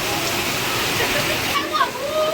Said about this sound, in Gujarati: અત્યારે તો ફૂલ વરસાદ ચાલુ થઈ ગયો